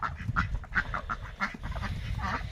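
Ducks or geese call in a run of repeated quacks and honks, fairly close and moderately loud, with no talking over them.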